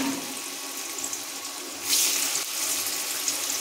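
Paneer pieces, 400 grams, dropped into hot oil, setting off a steady hiss and sizzle that grows louder partway through and then holds as a broad, continuous frying sound.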